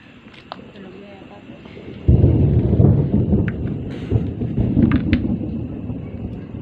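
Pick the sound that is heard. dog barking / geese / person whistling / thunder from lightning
thunder from lightning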